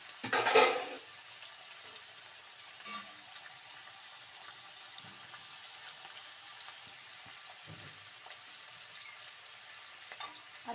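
Chopped vegetables drop into hot oil in a pan for vegetable chitranna, a sharp sizzling burst at first, then a softer steady frying hiss with occasional stirring knocks.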